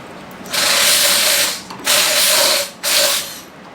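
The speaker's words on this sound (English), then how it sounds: "Now get 2 wrenches," A ratchet wrench tightening a fitting on a fuel pump during a K-swap install in an MR2, three close, loud bursts of rapid clicking separated by brief pauses.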